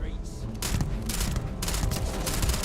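Beowulf rifle fire in the video game Starfield, a loud, sustained burst of rapid automatic shots with a booming edge, continuing almost without pause and partly overlapped by a voice.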